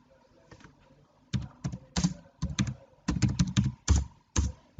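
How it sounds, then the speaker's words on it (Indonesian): Keys on a computer keyboard being tapped to enter a search keyword, sharp close clicks in quick irregular clusters with short pauses between. "Lalu kita bisa ketik aja untuk kata kuncinya ya."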